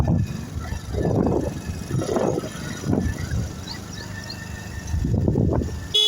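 A horse cart moves along a road, with horse hooves and cart noise coming in bursts, some loud and close and some quieter, over outdoor background rumble.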